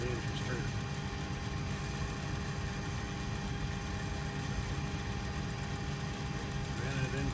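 Boeing 727 jet engine slowly turning during a cold start, a steady low rumble with a faint hum running unbroken underneath, no spoken words.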